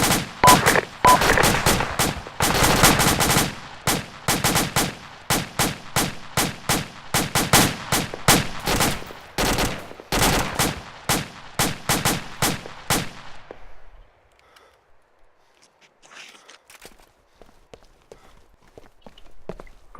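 Rapid gunfire from rifles and machine guns in a firefight, dense loud cracking bursts in quick rhythm for about thirteen seconds, then fading to scattered faint distant shots.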